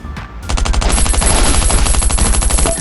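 Loud, sustained automatic gunfire in the shooter game Last Island of Survival: a short pause, then a fast unbroken stream of shots lasting over two seconds, close and dominant.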